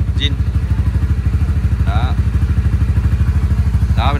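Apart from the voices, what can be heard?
Honda Winner X motorcycle engine starting and running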